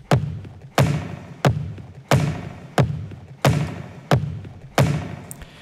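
Dance drum loop built from recorded dancers' footsteps, a steady series of eight heavy thumping hits with bright attacks and booming low tails, evenly spaced about every two-thirds of a second, loud and close with no voices.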